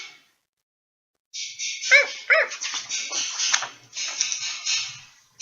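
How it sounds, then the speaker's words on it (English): A dog barks and yelps in quick excited bursts, fairly close, after a moment of silence, with a high whining edge between barks. "Jack, the dog, ran around in circles, barking happily"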